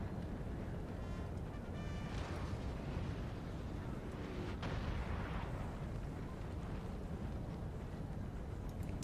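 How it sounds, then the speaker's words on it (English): Cannon fire in the Napoleon Total War video game, with booming artillery blasts rising over a constant, dense battlefield din. "So let's see if we can get a nice little hit with the cannons on those fellas."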